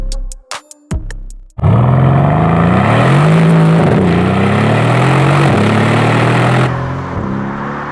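A Mercedes-AMG GLC 63 S Coupé with its V8 engine roars as it drives off, a loud steady rising rumble after a few brief knocks, with no voices.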